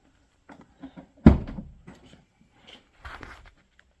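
The door of a 2021 Ford Bronco opens with a solid latch clunk and a short rattle, surrounded by a few lighter handling clicks and taps close by.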